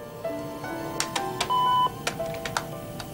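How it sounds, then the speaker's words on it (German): An answering machine beep from a 1991 American drama: one steady electronic tone of about a third of a second, set among scattered short blips and clicks, with no voices. "wenn Sie nach dem Piepton eine Nachricht hinterlassen wollen,"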